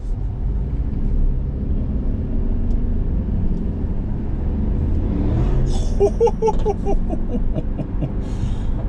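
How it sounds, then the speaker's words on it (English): A Mercedes-AMG GT 63 S engine rumbles low and steady, then a sharper whine and rising mechanical rattle sweeps past in the final seconds. "That is an AMG GT 63S, and that is a very nice car indeed."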